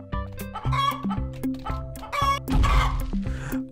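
A video game chicken clucks in a quick series of short, bright calls with a louder squawking burst near the end, heard close and clear without talk.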